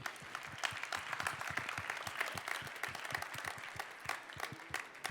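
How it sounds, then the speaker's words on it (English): An audience at the 2015 World Barista Championship in Seattle applauds sponsors, a steady mid-level wash of many hands clapping at once, slightly distant, with a faint voice now and then. "So a big round of applause for those, please."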